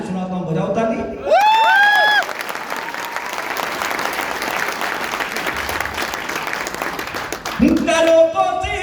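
Loud, sustained applause from a large audience at a motivational speech in Hindi, a dense wash of clapping lasting several seconds, with the speaker's voice heard before and after it.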